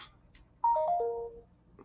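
Phone notification chime: a short descending sequence of three or four clear bell-like tones ringing out for under a second, loud and alone against a quiet background.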